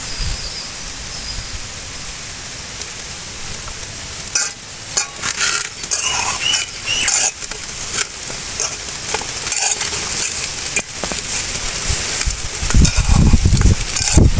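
Masala sizzling and crackling in sesame oil for a country chicken curry, a steady close frying hiss with scattered pops and stirring clatter that grows busier and louder toward the end.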